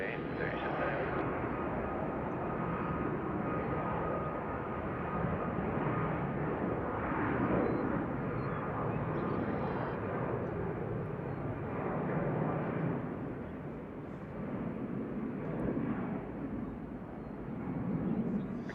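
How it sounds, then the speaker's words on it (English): A large airplane taxis at Nashville's airport, its engines giving a loud, steady roar and broad rumble that fills the whole stretch, with a muffled voice partly mixed in. "That's a big hunk of aircraft."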